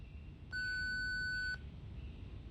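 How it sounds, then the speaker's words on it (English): A single electronic voicemail beep, a clean steady tone lasting about one second, sounds alone over quiet background hiss after a recorded greeting in the video game Reverse 1999. "Please leave a message after the beep."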